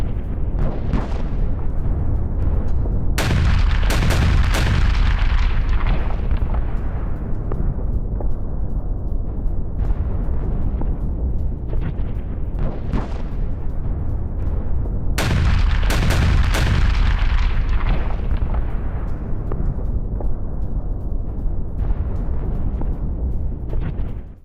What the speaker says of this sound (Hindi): खार्किव में रूस का फैब 3000 बॉम्ब से अटैक